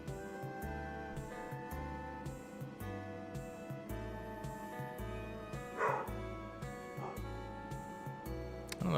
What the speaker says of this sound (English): I don't know if y'all heard my dog barking.